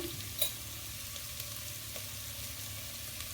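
Biryani masala with mint and coriander leaves sautéing in a pan for a jackfruit veg biryani, a faint continuous soft sizzle with one brief utensil clink near the start.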